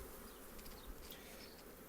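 Honey bees buzz around a beehive being worked by a beekeeper who has moved the queen up into a second box; a faint, steady, continuous hum with no talking.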